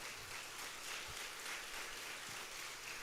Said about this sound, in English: Can we clap for them as loudly as possible?